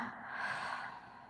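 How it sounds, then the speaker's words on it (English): One deep breath is drawn in slowly through the nose during a guided breathing exercise, soft and close, with a steady airy hiss and no talk. "Breathing in,"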